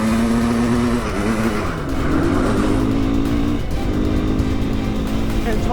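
A 700cc two-stroke dirt bike ridden hard on a dirt track, its engine holding a steady, buzzing drone that rises and dips in pitch, close and loud throughout with speech picked up over it.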